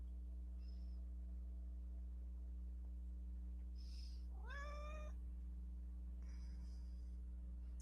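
A house cat gives a single short meow that rises and falls, fairly faint and close, over a steady low electrical hum, with a couple of other soft chirping sounds before and after it.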